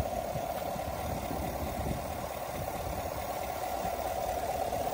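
A 2023 Chevrolet Silverado 1500 ZR2 pickup with a 6.2 liter V8 idles steadily at a low, even hum, continuous and moderately loud with no talk over it.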